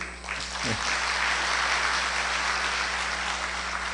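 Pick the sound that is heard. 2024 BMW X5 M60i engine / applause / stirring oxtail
applause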